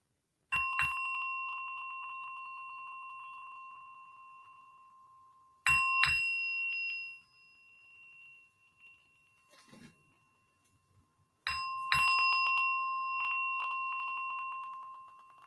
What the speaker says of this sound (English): So let us ring in the bell.